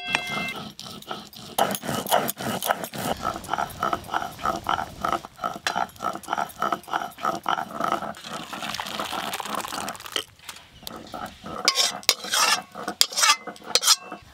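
A spoon stirs lentil dal with dried chillies in a metal pot, giving a run of scraping, clinking strokes that speed up into a busy rhythm, close and fairly loud, with a voice speaking briefly at times.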